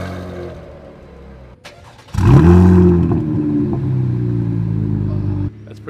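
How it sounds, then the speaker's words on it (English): A loud car's cold start: a brief cranking burst, then the engine catches with a deep, roaring idle that stays strong and steady for several seconds before dropping suddenly, recorded close up. "I'm gonna go ahead and put on a cold start real quick."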